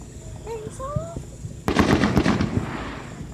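Fourth of July fireworks going off nearby, a sudden loud burst of rapid crackling pops following a quieter stretch with faint whistles, while people talk and shout.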